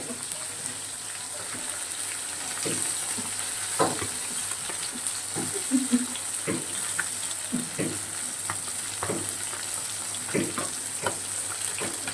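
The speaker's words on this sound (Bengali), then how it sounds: "মাছটা ভাজা হয়ে গেছে" Steady sizzling hiss of fish frying in a pan, with scattered clinks and scrapes of stirring throughout.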